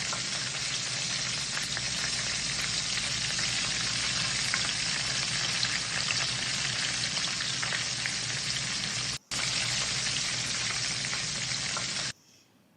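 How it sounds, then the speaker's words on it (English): Mushrooms fry in a hot pan with a steady, close, crackling sizzle that holds continuously with no voices, then stops at the end. "that sizzling."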